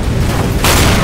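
An incendiary grenade goes off in CS:GO, a dull boom followed by a broad, steady rush of fire that swells loud about halfway through and holds to the end.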